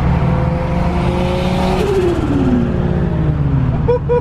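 A car with a 1J engine revs hard, a loud continuous roar whose pitch rises and then falls away, close and dominant throughout.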